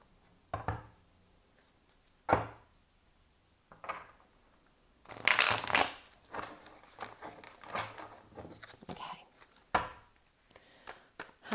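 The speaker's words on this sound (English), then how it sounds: "One more riffle shuffle." Tarot cards being riffle shuffled, a few short sharp riffling bursts with one longer, louder flurry in the middle, separated by quiet stretches of soft handling.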